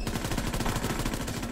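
Dense, rapid gunfire from the zombies mode of Call of Duty WW2, with bursts of automatic shots running together into a constant, loud barrage across the whole moment.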